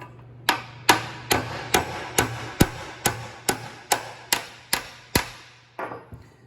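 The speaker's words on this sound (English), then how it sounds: "I'm going to take my big socket right here, and I'm just going to tap that on in." A tractor gear on an Allis Chalmers WD intermediate shaft is tapped into place with a hammer on a big socket, giving about twelve sharp metallic knocks in an even rhythm, close and loud, with a steady low hum underneath.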